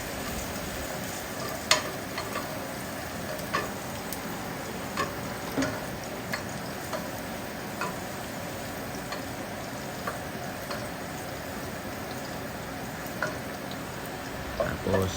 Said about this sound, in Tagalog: dito naman magigisa tayo. Gigisain natin ang bawang